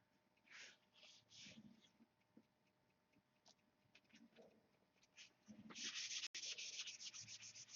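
Hand-sanding an electric control line P-51B model airplane, with faint short rubbing strokes and then longer, louder, steady back-and-forth sanding near the end.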